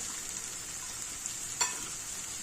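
Onions soften in a pan for momo filling, giving a low steady sizzle with a single sharper stir or clink partway through.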